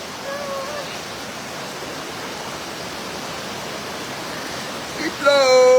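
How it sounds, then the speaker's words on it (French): Heavy rain falls in a constant broad wash of hiss, with faint vocal tones early and a voice cutting in loudly near the end. "Il pleut grave."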